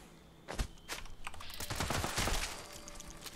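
Assault rifle fire in Fallout 76, an anti-armor explosive weapon, crackling in a rapid string of sharp shots that starts after a quiet half-second and carries on, loud and close, to the end with no talk.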